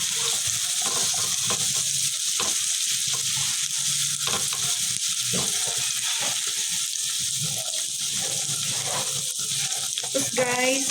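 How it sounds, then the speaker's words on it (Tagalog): Garlic, onion and ginger sauté in a pan with a constant bright sizzle and occasional stirring scrapes, close and steady, with a voice briefly heard near the end. "Pagka naluto na itong bawang, sibuyas at luya."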